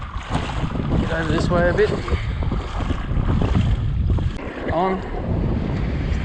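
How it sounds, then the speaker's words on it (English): Strong westerly coastal wind buffets the microphone while fishing the Gold Coast flats, a steady loud roar with water noise beneath, and someone talks briefly over it. "Quite windy, wind coming from the west."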